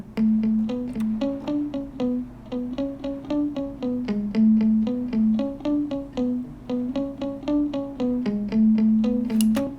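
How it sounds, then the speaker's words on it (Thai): A bowed string part plays a quick, evenly pulsed line of short repeated notes, bright and rhythmic, continuing steadily with no voices. "มีอะไรอีกท่อนไวโอลินเซสชั่น"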